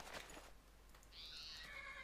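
A horse in a video game gives a drawn-out whinny after a couple of soft thuds, the neigh rising and wavering for about a second, fairly close and clear against a low background hum.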